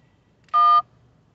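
A single electronic keypad tone, a steady two-pitch dual-tone beep lasting about a quarter second, sounds from a telephone keypad as a prepaid card number is entered; it is clear and close against a quiet background.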